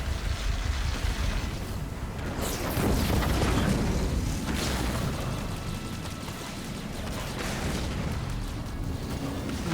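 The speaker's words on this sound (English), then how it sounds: "Mines detonate." Mines detonating in a Halo Wars 2 match, heard as heavy rumbling booms that swell and fade over several seconds within a continuous wash of battle noise.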